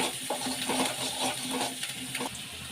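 Green chillies fry in hot oil with a steady close sizzle, broken by rhythmic scraping and clinking bursts as they are stirred in the pan.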